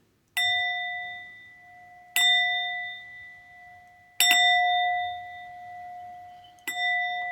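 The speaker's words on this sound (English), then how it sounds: "I'm going to ring the bell, you all." A small hand bell struck four times in a quiet room, each stroke a bright metallic ding that rings on and slowly decays before the next, heard alone without talk.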